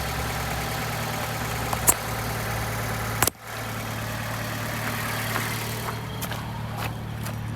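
A Fiat 500 C convertible engine idles steadily at close range, a low continuous hum broken by a couple of sharp clicks and a brief dip in the middle.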